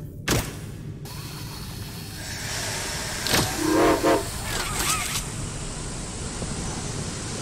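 A train in the Poppy Playtime Chapter 2 video game gives a loud whistle blast over a constant rail rumble and hissing steam, with a sharp clank near the start.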